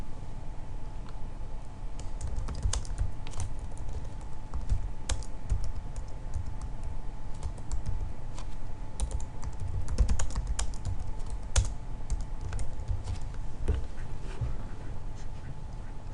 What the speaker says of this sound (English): We can then type in the order number